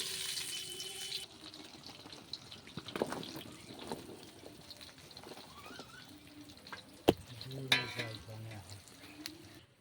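Raw mango pieces go into hot mustard oil with dried red chillies and whole spices and are stirred for pickle. A soft sizzle and scraping stir sounds run throughout, with a few clanks and splashes, all close and fairly quiet.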